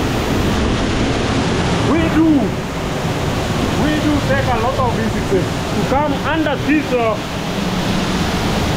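Nyabomite waterfall in Nyanza roars as a loud, steady wash of falling water, with someone talking over it throughout.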